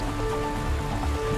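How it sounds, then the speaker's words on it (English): Steady hiss of rainfall in a virtual cycling race game during a Zwift-style route near a volcano, continuous and even across the moment under low game tones, no talking. "At least you can get out of this rain and warm up a little bit."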